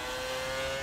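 Red Bull Racing 2010 Formula One car engine in F1 2018 at Hockenheim, a high steady whine held at constant revs throughout the brief moment, with no voices.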